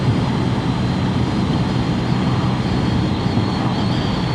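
A Lexmoto Isca 125 motorcycle engine holds a steady drone while riding at around 45 to 50 mph, loud and continuous and blended with wind rush, with no talk over it.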